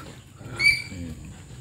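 A dog gives a brief, high whimper in the middle of a short stretch, with faint low sounds around it.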